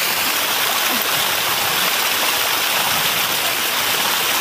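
A small waterfall in a city forest rushes in a loud, steady, close roar of falling water with no break and no talking.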